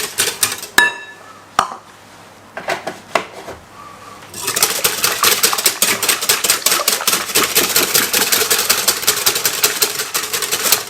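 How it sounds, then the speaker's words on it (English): Whisk beating milk in a bowl, a few sparse clinks at first, then rapid steady rattling taps against the bowl, loud and close with no talk. "You want to whisk it."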